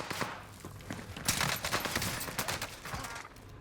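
Gunfire in the shooter video game Call of Duty: Warzone Pacific, a burst of rapid automatic shots and scattered cracks from mid distance, with footsteps mixed in.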